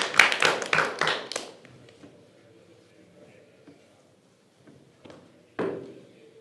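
A short burst of scattered clapping from a small audience at a competition in Dublin fades quickly into near silence, followed later by one more brief clap.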